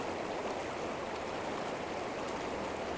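Stream of water flowing over rocks: a steady, close, continuous rushing babble with fine splashing texture, even in level throughout and heard alone.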